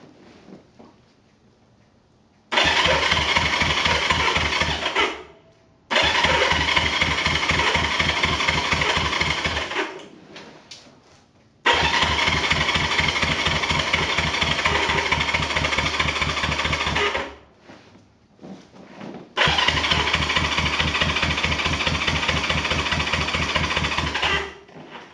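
A 1973 Honda CB350 motorcycle under rebuild is started four times, each run settling into a loud, close, steady idle for several seconds before cutting off into near silence between attempts.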